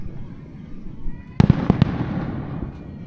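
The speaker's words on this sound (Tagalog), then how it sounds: "Oh, may fireworks pa, di ba?" A few sharp fireworks pops burst in quick succession at a distance over a campsite in Morong, Bataan, their crackle fading into steady outdoor background noise.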